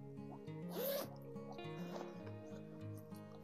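Zipper running along the zip closure of a crazy horse leather tote bag, one quick rasping pull near the start and a softer second pass, heard faintly over steady background music.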